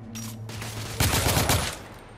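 Rapid gunfire from The Order: 1886 cover fire, a dense burst of shots that swells loudest in the middle and then fades, with no talking.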